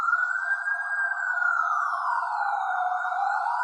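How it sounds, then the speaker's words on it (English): Police car siren wailing steadily, a continuous loud rising and falling tone that holds throughout with no pauses or voices. "the police are going to get you for it, and I can hear them coming right now."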